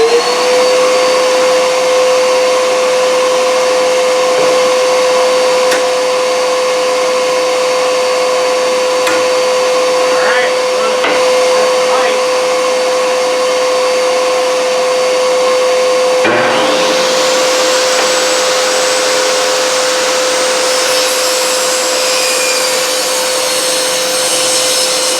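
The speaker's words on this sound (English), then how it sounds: "So let's turn on the wet and dry." A wet and dry shop vacuum runs loud and steady in a workshop with a miter saw table, its whine constant throughout, rising in pitch and intensity partway through as the airflow changes.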